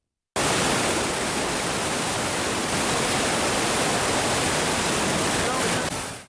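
Floodwater of the Akeru stream near Chinnagudur, Warangal, rushing fiercely after heavy rain, a loud, steady broadband roar of torrent that runs unbroken for about six seconds and then cuts off.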